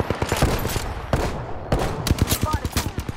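Rapid automatic gunfire from the video game Apex Legends, close and loud bursts of repeated shots in quick succession, pausing briefly then resuming, with a player talking over it.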